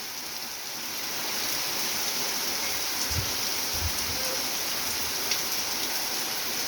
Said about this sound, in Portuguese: Deu a chuva?